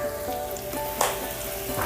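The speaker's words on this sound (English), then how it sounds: "I'm just going to get these mushrooms sauteed like I said" Mushrooms dusted with garlic powder sauté in a pan, making a steady close sizzle with brief spits and a light stirring clatter around the midpoint.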